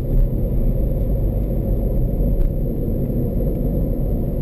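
A fairly old car driving in second gear on a road, its engine a steady, loud low rumble with continuous road noise throughout, no voices.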